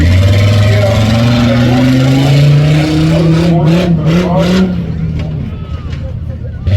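A Hummer H3 truck's engine revs hard and rises in pitch at a rough truck competition at the Hartford Fair, loud and close, then eases off amid crowd noise and a commentator's voice.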